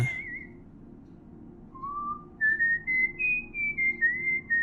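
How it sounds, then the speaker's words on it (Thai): A mysterious man in The Stand whistles a slow, wandering tune of sustained notes that glide up and down, clear and alone over a faint low hum. "เสียงผิวปากจากชายปริศนาลอยมากับสายลม"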